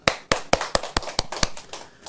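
A group claps together in unison at a health talk, about nine sharp, evenly spaced claps, close and clear, ending after two seconds.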